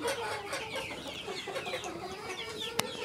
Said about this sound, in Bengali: তো বাসায় এভাবে মুরগি পোষা আসলে অনেক ভালো, হাঁস মুরগি সব একসাথে